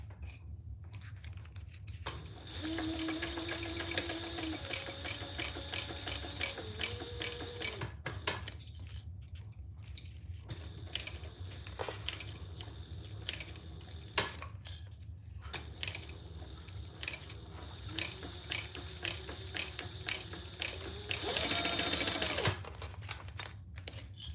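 A home sewing machine stitches a seam in rapid mechanical bursts of clattering needle strokes, with short pauses, a higher whirring motor tone and a faint voice in the background.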